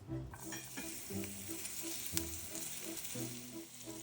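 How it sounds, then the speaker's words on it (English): Steady crackling sizzle of garlic frying in hot oil in a pan, with occasional scraping stirs, close up and continuous. "In a frying pan, add 2 tablespoons of oil and minced garlic."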